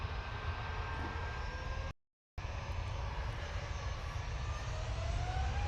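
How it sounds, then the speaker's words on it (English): A Ryanair Boeing 737-800 jet departs for Copenhagen, its engines giving a steady, fairly loud roar with a low rumble that keeps going, broken once by a brief dropout. "Off to Copenhagen, 737-800."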